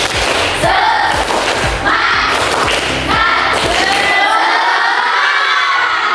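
A classroom group performs a rhythmic spirit clap, loud and close, with repeated sharp claps in a patterned beat mixed with children's voices chanting and shouting together.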